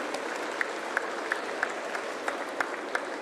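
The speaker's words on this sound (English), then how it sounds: "we need to have a serious clap for all this activity" Audience at the IGBC Green Property Show at Hitex Exhibition Centre, Hyderabad, clapping together in a steady crowd patter, with a few sharper individual claps popping out at irregular intervals above the general applause.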